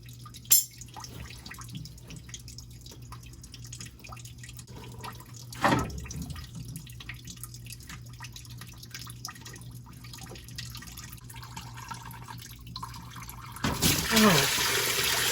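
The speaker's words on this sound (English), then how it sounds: "it's still draining, but we can go ahead and take this hose loose, and that'll just help it drain even faster" Engine coolant drains from a radiator hose on a 1973-79 Ford F-series truck into a drain pan, heard as a faint, steady trickle with a few soft drips under low background noise.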